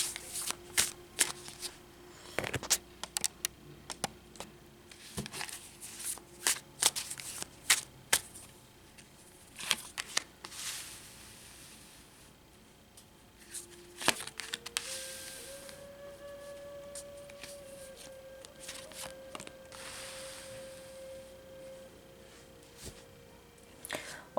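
Tarot cards being shuffled and dealt during a pick-a-card reading, with repeated crisp riffles and snaps in bursts, plus a steady background hum that shifts pitch partway through; no speech.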